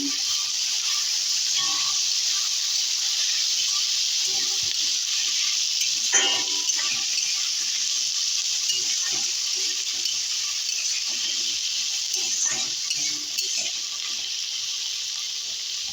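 Steady, hissing sizzle of chopped onions frying in a hot pan, constant throughout, with occasional light clinks and stirring sounds.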